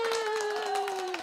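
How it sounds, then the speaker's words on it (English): A short burst of clapping sound effect plays for a live online stream, with a steady sustained tone running underneath the scattered claps, loud and close. "Applause."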